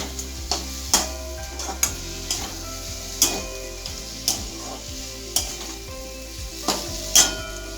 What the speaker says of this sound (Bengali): এবার নাড়াচাড়া ভালো করে করতে হবে।